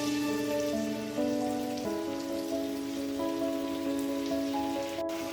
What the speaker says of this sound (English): And then I'm going to add the chopped onions.